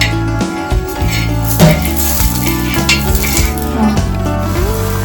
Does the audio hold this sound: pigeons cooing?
no